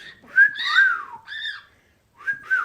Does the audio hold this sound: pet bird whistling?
yes